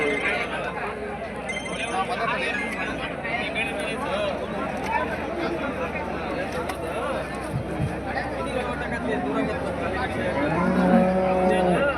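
At the Honnali cattle market on a rainy day, a heavy cow, apparently a Punjab breed, gives a low moo near the end amid steady crowd noise and nearby talking.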